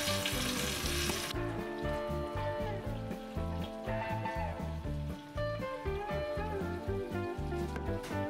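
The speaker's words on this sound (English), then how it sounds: "While your beef is searing" Beef short ribs sear in a hot pan, a steady, close sizzle and crackle running the whole time, loudest in the first second before settling to an even frying hiss.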